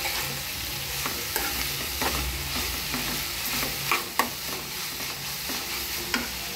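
Amaranth leaves being stirred into a hot pan for thotakura pulusu, a continuous sizzle with repeated spoon scrapes and clinks against the pan, close and fairly loud, no voices.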